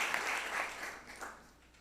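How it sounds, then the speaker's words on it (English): Audience applause for a panel of appellate judges at a formal judicial investiture ceremony, a steady smattering of many hands that swells briefly, then thins and fades toward the end. "We clap extra for them because they review all of our decisions."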